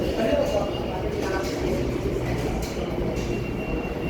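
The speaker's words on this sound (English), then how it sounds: "Gotta get on this train." A New York City subway train runs toward Flatbush, a loud, continuous rumble and rattle of the cars with faint wheel squeal, heard from close up inside the train.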